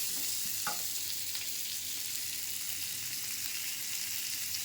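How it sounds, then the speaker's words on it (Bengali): Potatoes and tomatoes frying in a little oil, a steady dense sizzle with a faint stir or clink near the start, close and continuous. "আলু আর টমেটো দিয়ে হালকা তেলে ভেজে নিতে হবে, তারপরে হলুদ আর লবণ দিয়ে ভাজতে হবে।"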